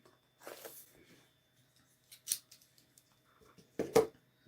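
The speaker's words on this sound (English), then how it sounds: "We're just going to cut open the tabs here." Cardboard tabs on a Labists Raspberry Pi 4 starter kit box being cut open, giving a few short, near cutting and tearing bursts separated by quiet pauses, with no talk.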